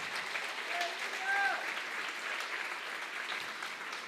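A church congregation applauds in steady, distant clapping during worship, soft and continuous with faint voices mixed in.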